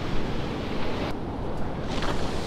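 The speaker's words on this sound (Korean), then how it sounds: "파도가 오고 있습니다" Ocean waves wash onto a winter beach at Donghae in a continuous loud rush of surf mixed with wind noise on the microphone.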